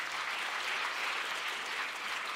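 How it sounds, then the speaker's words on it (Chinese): Steady applause from a congregation at an Easter worship service, a dense even patter of many hands lasting throughout, moderately distant with no talk over it. "还拍手"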